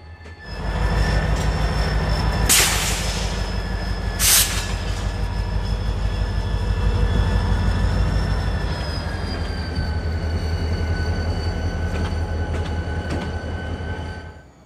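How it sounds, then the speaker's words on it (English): Former Southern SD40-2 diesel locomotive shoving a former NS switcher back onto the main line on the old N&W in Norfolk, its engine droning steadily nearby with two sharp wheel squeals early on and faint rail clatter. "NIT 1103, a former NS motor, is actually being shoved back onto the main by former Southern SD40-2"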